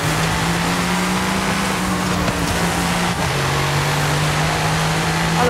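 A Mercedes drives in Forza Horizon 5 with a steady engine drone holding one pitch, then dipping slightly partway through, loud and continuous with no talk.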